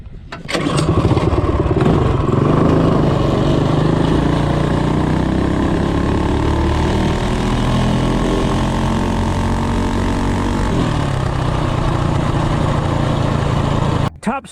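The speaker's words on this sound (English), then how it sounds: "Top speed run, short intake on a CT200U-EX." A Honda CT200U-EX motorcycle with a short intake manifold on a top speed run, its engine roaring loud and close with a steady, continuous drone that climbs slowly in pitch for the whole run, then cuts off abruptly at the end.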